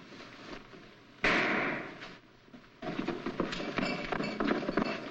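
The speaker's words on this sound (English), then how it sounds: "What was that shot?" A sudden sharp gunshot bang cuts through a steady background, followed by a quieter stretch and then a busy clatter of movement and scuffling.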